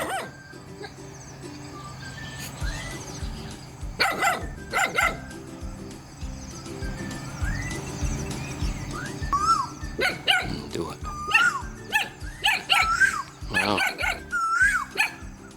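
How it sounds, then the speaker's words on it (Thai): A small puppy yaps and barks in repeated short bursts, joined by chicken clucks and outdoor bird calls, while people talk throughout. "หมาเห่า"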